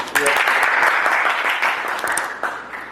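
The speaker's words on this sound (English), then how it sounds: "Give her a big round of applause" An audience at a Toastmasters gathering in Medina claps for the host, a steady burst of many hands close by, with a brief voice near the start.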